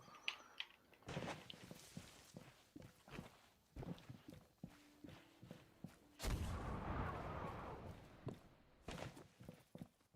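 Ship cannon fire in the pirate video game Sea of Thieves: a deep, booming blast rises out of a busy stretch of rapid thumps and impacts, followed by a rumbling wash of noise, moderately loud.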